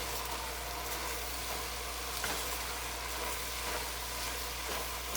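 Ground meat frying with chili seasoning stirred in gives a steady, fairly faint sizzle with occasional scraping, continuous and close over a low background hum.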